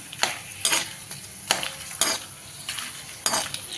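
Potato vathal fry in oil while a utensil knocks and scrapes the pan in several distinct, spaced clinks over a soft background sizzle.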